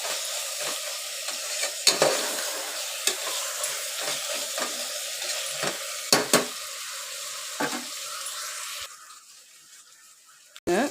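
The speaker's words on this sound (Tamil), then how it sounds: "தக்காளியை சேர்த்து நல்லா கிளறிக்கலாம்." Tomatoes and onions fry in oil for chicken biryani while a spoon stirs them in a pan, giving a steady close sizzle with repeated scraping clicks. The pan goes quieter near the end.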